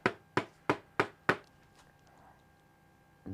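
A hammer strikes a package five times in quick, evenly spaced blows, sharp and close, followed by quiet and then a faint rustle.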